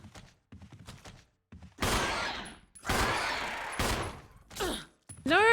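Gunfire in the 2002 Resident Evil game: several loud, broadband blasts in a rapid volley, with brief gaps and a ringing tail after the last shot, preceded by quieter thumps.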